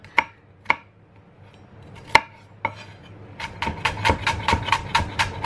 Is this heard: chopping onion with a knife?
yes